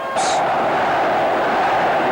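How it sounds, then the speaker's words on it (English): Football crowd in a stadium in Guayaquil, Ecuador, roaring steadily behind the home side during a 1990 World Cup qualifier, a broad continuous wash of noise with a brief whistle-like burst near the start. "just listen to the Ecuadorian crowd here getting behind their side"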